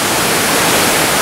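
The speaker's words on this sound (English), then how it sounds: "This waterfall is called Inukai Daki." Inukai waterfall in Kagoshima, Japan, a 36-metre cascade, gives a loud, dense, unbroken roar of falling water, heard close and alone.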